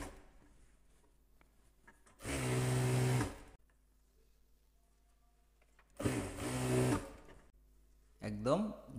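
An electric sewing machine stitches the high seam of plazo pants, running in two loud bursts of about a second each with a shorter third burst, with quiet pauses in between and no talking over it.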